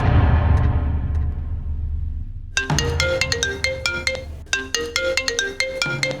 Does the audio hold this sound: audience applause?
no